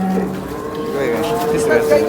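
A cow moos loudly and nearby, a long drawn-out low call, with crowd murmur and background noise of a busy cattle market at Modnimb, Maharashtra, around it.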